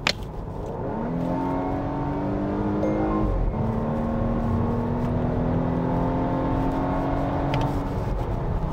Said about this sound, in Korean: 저속으로 천천히 가다가 급가속을 하려고 하면